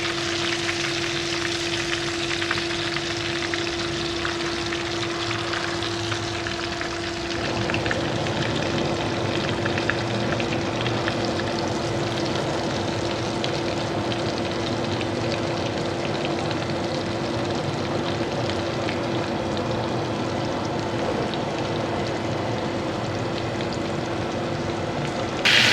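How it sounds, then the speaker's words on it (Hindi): Pieces of chicken fry in hot oil for a zinger-style burger, a dense continuous sizzle and crackle heard close and steady for the whole stretch, with a faint tonal hum early on. "तो इस तरह से ये बाकी चिकन भी हम फ्राई कर लेंगे।"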